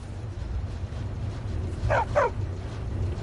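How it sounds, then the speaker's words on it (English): Dog in the Skyrim video game giving two quick barks close together, rising over a steady low background hum. "Stupid dog."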